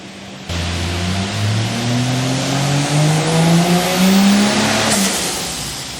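A 1000HP Barra engine on a dyno, starting low and steady and then revving upward in a loud, rising drone with climbing harmonic tones, briefly peaking before easing off at the end.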